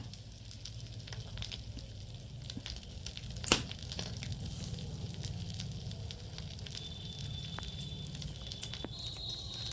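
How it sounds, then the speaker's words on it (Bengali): Fish roe fritters fry in a small amount of oil, making a fairly faint, steady crackling sizzle with a single sharp clatter near the middle. "বড়াগুলো আমার খুব সুন্দর করে ভাজা হয়ে গিয়েছে"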